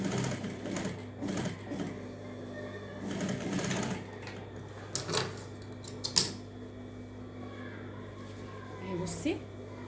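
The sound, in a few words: sewing machine stitching trousers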